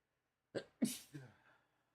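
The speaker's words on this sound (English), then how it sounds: "I'm going to sneeze here." A single close sneeze, with a short sharp intake and then a loud burst that trails off, alone in silence.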